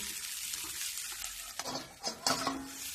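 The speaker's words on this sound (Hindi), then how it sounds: "देखो मैं बीच बीच में इसी प्रकार मैं चलाऊंगी, जब तक ये मटर गलेगी नहीं तब तक मैं चलाते रहूंगी" Green peas fry in a pan and are stirred, giving a steady sizzle with a few scraping and clattering bursts from the stirring near the end. The sound is moderately close and no one talks.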